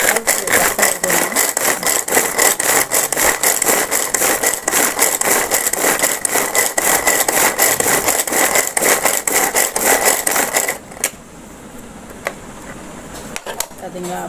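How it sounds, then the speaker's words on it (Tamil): An electric vegetable chopper cuts an onion with a steady, fast rattling motor whir that runs for about ten seconds, then stops, leaving quiet with a few faint clicks. "ஸோ ஒரு சின்னதாக ஒரு வெங்காயத்தை போட்டு நம்ம கட் பண்ணி பார்க்கலாம்."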